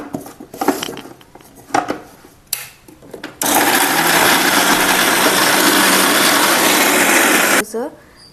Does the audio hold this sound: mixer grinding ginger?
yes